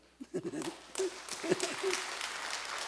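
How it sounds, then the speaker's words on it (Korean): Church congregation applauding, with scattered claps at first that thicken into a fuller round, mixed with voices calling out over the clapping. "베드로 선교회가 한번 박수를 하시죠."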